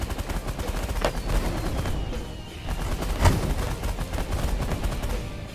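Ships trade fire in The Last Federation space game, with a continuous rattle of rapid shots and bursts and a few heavier thumps standing out, steady and moderately loud throughout.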